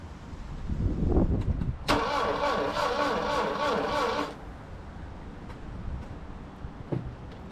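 A Saab Sonett III being cranked for its first start in twelve years: a loud, steady mechanical starter churn runs for about two and a half seconds without catching, with some handling noise before and after.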